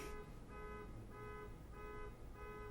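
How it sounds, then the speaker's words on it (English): An electronic alarm beeps in a steady repeating pattern, about every half second, sounding a bit distant and muffled against low background noise. "that beeping's gonna be annoying"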